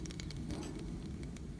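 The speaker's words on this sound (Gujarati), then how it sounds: "તો મિત્રો રાઈ સરસ તતરી ગઈ છે તો તેમાં આપણે અજમાનો વઘાર કરીશું" Mustard seeds splutter in hot oil during tempering for a homemade brinjal curry, making faint, scattered crackles and pops over a soft, steady sizzle.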